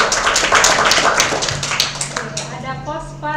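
Students in a class clap in a quick burst of applause for a classmate's answer, with the clapping heard over a video-call link before a voice starts talking.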